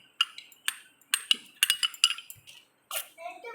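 A spoon clinks and scrapes in a bowl while stirring chopped onions with chili powder for homemade kurkure, giving several sharp close clinks in irregular bursts with short pauses between.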